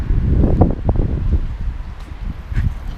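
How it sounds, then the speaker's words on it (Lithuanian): Strong outdoor wind buffeting the microphone, low rumbling gusts and rustling in uneven surges, loud and close throughout. "Vėjas didelis lauke."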